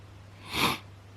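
A single short hay fever sniff or snort, breathy and close, swelling and fading in about a third of a second over a low steady hum.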